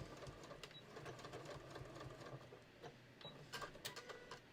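A sewing machine tacks down part of a beach tote, quick bursts of close stitching with small clicks and taps between runs, quiet and alone without talk.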